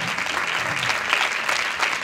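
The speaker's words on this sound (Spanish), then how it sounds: "Un fuerte aplauso, hombre." Audience applause at a volunteering gala in Algete, a steady dense clapping from a crowd that fills the whole moment without pause.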